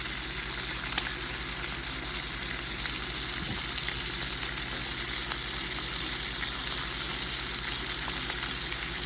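Strips of bacon fry in a skillet of hot grease, giving a steady, close sizzle and crackle that runs evenly throughout with no talking.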